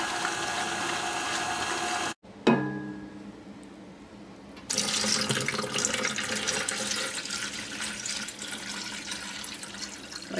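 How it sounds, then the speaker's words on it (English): Cold tap water runs into a bowl used to rinse homemade butter, a steady close rushing stream that cuts out briefly, resumes, then continues as a fuller, louder pour until the end. "I'm going to fill it back up with some more cold water."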